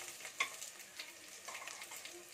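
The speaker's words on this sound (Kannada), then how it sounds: "ಒಗ್ಗರಣೆ ಎಲ್ಲ ಆದ್ಮೇಲೆ ನಾನು ಇದರಲ್ಲಿ ಒಂದು ಸ್ವಲ್ಪ ಒಗ್ಗರಣೆನ ಎತ್ತಿಟ್ಕೊಂಡ್ಬಿಡ್ತೀನಿ." Tempering (oggarane) with onion for radish sambar sizzles quietly in a pan while being stirred, a soft steady crackle with a clink or two, faint and close.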